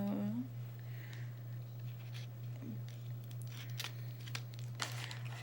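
Scissors snip and packaging crinkles and tears while a cosmetics face palette is opened during an unboxing, giving short crisp bursts that grow livelier toward the end over a low steady hum, with no voice heard.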